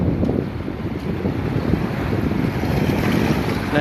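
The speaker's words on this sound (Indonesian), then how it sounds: "Luar biasa ombaknya, sangat bergemuruh." Roaring sea waves pound steadily at a harbour, a continuous loud broadband wash with gusty wind noise and no speech.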